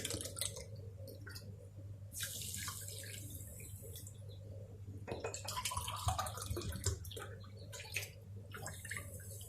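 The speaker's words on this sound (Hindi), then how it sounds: "2 कप पानी डालती हूँ।" Water is poured from a cup into a kadhai of sugar for making syrup, giving intermittent splashing and trickling pours close by in a kitchen.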